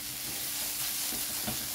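Dadar gulung filling cooks in a pan with a steady, close sizzling hiss and occasional soft stirring bumps.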